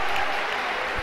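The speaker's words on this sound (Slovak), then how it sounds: "Potlesk domácich tribún." Home stands applauding at a Slovak football match, FK Prešov against ŠK Makroteam Žilina, a loud, dense burst of crowd clapping and noise, brief and sustained, with a commentator's voice faintly mixed in.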